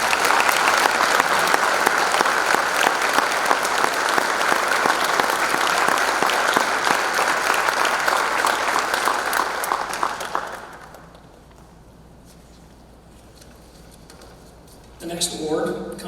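Audience at a high school spring band concert applauding an award recipient, loud sustained clapping that fades out, followed by a quiet pause before a voice speaks.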